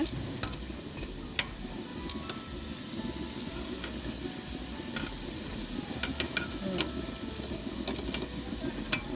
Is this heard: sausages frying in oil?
yes